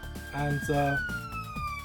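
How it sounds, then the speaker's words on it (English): A siren outside holds a steady, slowly falling wail behind someone talking close to the microphone. The siren is clear but sits under the speech. "there's always got to be a siren when I'm making a video"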